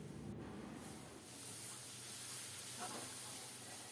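Onion and garlic spice paste fries and is stirred in a pan for a puti fish curry, giving a steady close sizzling hiss with faint scraping throughout.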